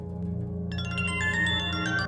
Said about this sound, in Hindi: अभी बेल बजेगी।